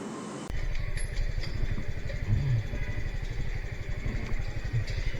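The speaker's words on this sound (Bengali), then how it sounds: "দেখছেন এই মোটর সাইকেল" A motorcycle engine starts up abruptly and runs steadily nearby, a low rhythmic putter with rattling, no voices.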